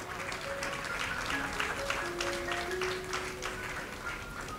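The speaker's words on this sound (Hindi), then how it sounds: "तो एक बार आप सभी जोरदार तालियां बजा दें एक दास्तान की पूरी टीम के लिए" An audience claps steadily and fairly loudly for a few seconds at a live stage show, a dense wash of applause with no pause.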